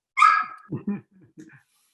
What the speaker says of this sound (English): I'm sorry about the dog barks.